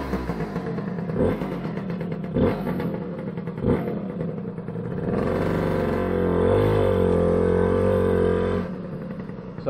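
A Lambretta TV175 scooter takes three thumping kicks that fail to start it, then the engine catches and settles into a steady, buzzing two-stroke idle close by.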